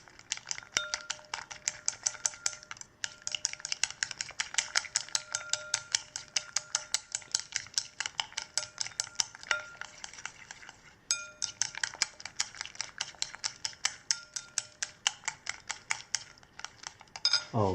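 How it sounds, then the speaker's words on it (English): Eggs beaten with soy sauce in a bowl for a Thai-style omelette, a utensil clinking rapidly and steadily against the bowl's side in a long run of close, even strokes, with one brief pause midway and no talk. "And then we put some soy sauce into the bowl. All right. Then we stir again."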